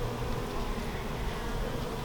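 Honey bees at an open hive during an inspection hum in a dense, steady buzz that fills the whole moment, close and continuous without pause.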